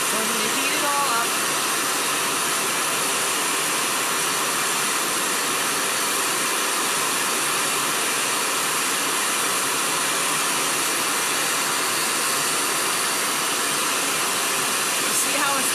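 A torch heats enamel-coated steel wire until it glows red hot, giving a steady, loud, broadband roar that holds without a break and sits close up.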